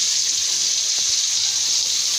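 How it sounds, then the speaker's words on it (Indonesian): Ground spice paste sizzles steadily in a hot pan as it is sautéed and stirred, a continuous bright hiss with faint scraping underneath and no voices. "Tumis bumbu yang dihaluskan, kita aduk ya bun ya, sampai keluar aroma wangi."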